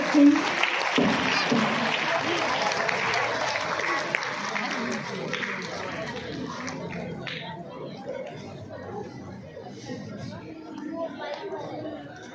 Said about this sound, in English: Let's have a clap for her.